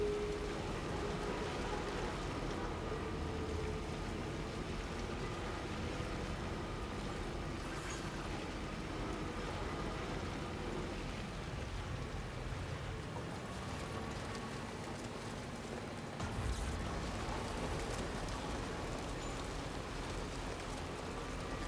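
Timefall rain pours steadily in Death Stranding 2, a soft, even hiss of drops falling continuously at moderate distance with faint low rumbles underneath and no voices.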